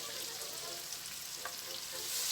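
Marinated pork frying in a pan for a creamy garlic mushroom dish, a steady close sizzle with faint crackles and light stirring, growing slightly louder at the end.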